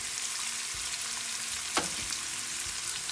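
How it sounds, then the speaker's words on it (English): Green beans fry in a hot pan with a steady, dense sizzle throughout, broken by a single clear stirring knock partway through, close and continuous. "I'm going to cook the beans for 3 to 5 minutes."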